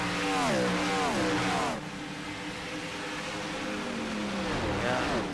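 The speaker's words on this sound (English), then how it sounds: "somebody in this pack here is putting in the clutch. I keep hearing the revs dropping to nil" A simulated race car engine in an Auto Club Speedway sim race wails at high revs, then drops abruptly as the clutch goes in and sinks to a lower drone, climbing again near the end.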